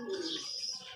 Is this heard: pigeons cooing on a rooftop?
yes